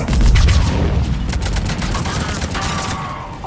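Heavy gunfire in Mass Effect 3, loud sustained bursts of shots and booms forming a dense fusillade, with radio-style voices talking over the battle.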